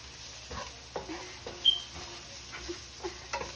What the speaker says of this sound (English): I will add the garlic to the onion. We will saute it.